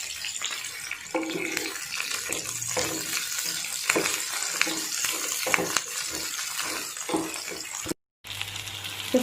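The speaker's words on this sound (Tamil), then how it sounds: "இப்போ பேனில் ஆயில் நல்லா ஹீட் ஆகிடுச்சு. இப்போ ஆனியன் ஆட் பண்ணிக்கலாம். சின்ன வெங்காயம் ஆட் பண்ணிக்கோங்க." Small shallots frying in hot oil in a pan while cooking mutton chukka, a steady crackling sizzle with scattered sharp pops and occasional stirring scrapes, close by, with a brief gap near the end.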